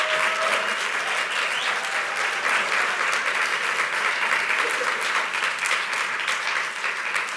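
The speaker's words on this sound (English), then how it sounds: "Don't keep clapping over me" Sustained applause from an audience at a health summit, dense and steady throughout, loud and close with a faint voice briefly audible underneath.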